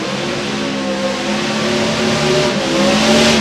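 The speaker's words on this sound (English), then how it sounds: "back to the burnouts now in the Crazy Grandpa" At an NHRA Hot Rod Reunion drag strip, a race car does a burnout with a loud, close engine roar and tonal revving that climbs gradually, with tire noise blended in.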